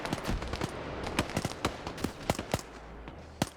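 Rapid bursts of AK rifle gunfire in a military video game battle, sharp cracks firing in uneven clusters against a busy background of distant shots and rumble.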